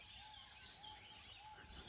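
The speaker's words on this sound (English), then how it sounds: "You can hear the birds in the background there." Garden birds chirp and sing faintly in the background, thin repeated tweets over a soft steady outdoor hiss, with no voices.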